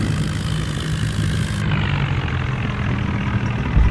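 A tractor engine drones steadily as it pulls forward to be hitched for towing on a farm, a loud, continuous low rumble with no pauses and no voices over it.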